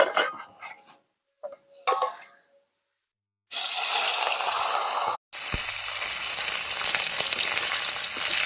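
Bata fish frying in hot oil: a few brief clatters and quiet handling noises, then a loud, dense sizzle bursts in, breaks off for a moment and resumes strongly, close up with no talking.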